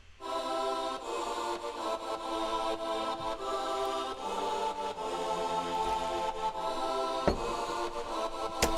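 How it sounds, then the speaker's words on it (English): Big chordal choir pad from a song remix, side-chained to the kick so it pumps rhythmically throughout, sustained and loud, with a sharp percussive hit near the end. "The big chordal thing is this choir that's side-chained to the kick."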